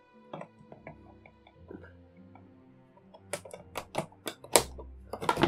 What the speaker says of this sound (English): we will now cut this figure out of its packaging.